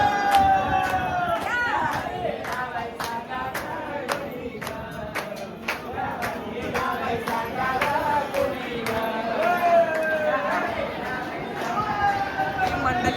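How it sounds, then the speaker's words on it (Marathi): A dense crowd of pilgrims moves along the wari procession to Alandi. Voices chatter and call out close by, with scattered clapping and sustained sung or chanted tones running through the busy hubbub. "चला तुम्हाला दाखवते पुढची गर्दी."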